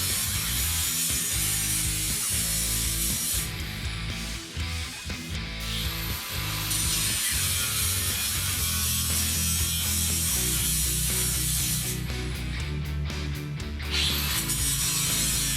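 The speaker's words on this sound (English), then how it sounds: "we can notch the frame tubing between the shock mounts with a grinder" An angle grinder cuts into steel frame tubing on a Honda CB750 cafe racer, a loud, dense continuous grinding roar with rattling, uneven surges, no voices.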